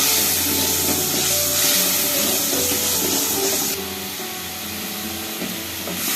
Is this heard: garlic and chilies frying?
yes